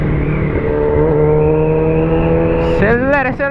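A car accelerates on a rough asphalt road with many patches and speed bumps. The engine hum holds close and steady, rises in pitch as it revs, then shifts near the end.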